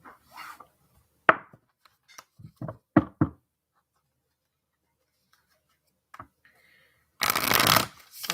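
Tarot cards being shuffled, with scattered soft taps and riffles early on, then a loud, sustained burst of card shuffling close by near the end.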